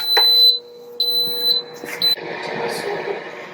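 An air fryer gives a few sharp, high electronic beeps in quick succession at its halfway mark while cooking chicken wings, then a softer rustling background follows.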